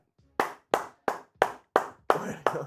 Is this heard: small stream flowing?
no